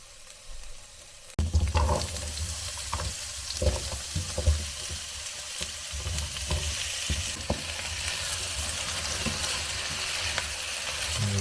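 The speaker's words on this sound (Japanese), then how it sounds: "オリーブオイルたっぷり敷いて、ニンニク2かけぐらい入れます。" Garlic cloves frying in a generous pool of olive oil, a sudden loud sizzle starting after a quiet moment, then a steady crackling hiss with occasional stirring clinks throughout.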